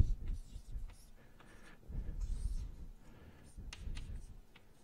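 A lecturer writing an equation on a board in a particle physics statistics lecture, with irregular soft scratchy strokes and taps spread over a few seconds in a quiet room.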